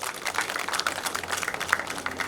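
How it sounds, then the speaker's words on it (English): An auditorium audience at an inauguration ceremony applauds, a steady dense wash of many hands clapping at moderate distance, with no break across the short stretch. "Let's all give them a big round of applause."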